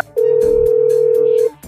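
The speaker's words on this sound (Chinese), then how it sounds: "你给董事长打个电话，确定一下董事长到底来了没有" A telephone dial tone rings out as a phone call is placed, a steady, loud, unbroken tone held for over a second before cutting off, with light background sounds beneath it.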